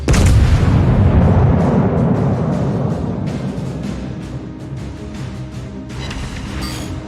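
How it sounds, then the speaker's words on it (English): Loud, dense booming explosions from a ship being torpedoed in the World of Warships naval video game, a heavy continuous rumble that slowly fades with a fresh burst near the end. "He's getting torpedoed right now."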